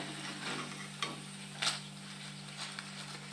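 Tapioca chips (cassava slices) frying in hot oil, a steady soft sizzle and bubbling hiss throughout with a few brief louder crackles and pops.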